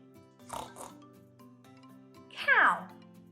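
A voice reading a children's picture book aloud imitates a pig with a couple of short nasal oinks and a rising squeal, spoken close and clear over a faint background.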